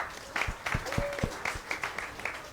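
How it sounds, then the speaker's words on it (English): A small audience gathered for an evening talk in a restaurant gives a faint round of applause, thin and sparse clapping with separate claps audible against a quiet room. "We'd also like to give a big round of applause to Aman Hana for hosting us tonight."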